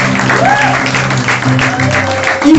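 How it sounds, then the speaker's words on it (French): Church congregation applauding for Jesus during a sermon, broad steady clapping with whoops and cheers over a low organ or keyboard drone, fairly close and full throughout. "applaudissez pour Jésus"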